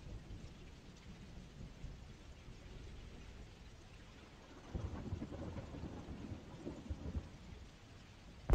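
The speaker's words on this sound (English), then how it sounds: "There's storm sound." Thunderstorm in the Security Guard Simulator video game: steady rain hiss with low rolling thunder swelling midway, distant and continuous, no voices.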